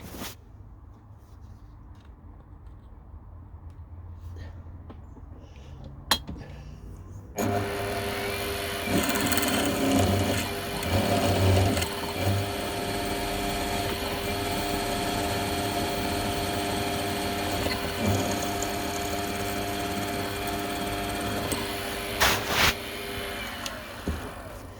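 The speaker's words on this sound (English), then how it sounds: "5mm drill again." A 5mm drill bores into metal while miniature toe clamps are made in a workshop: after a quiet start, a steady, fairly loud whirring motor runs continuously with slight load changes, no talk.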